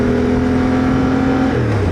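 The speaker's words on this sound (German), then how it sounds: "Da kommt das erste Auto entgegen." A car comes head-on along an offroad track during an autumn motorcycle tour, its steady engine drone loud and close, then dropping in pitch near the end as it draws near and passes. No one speaks.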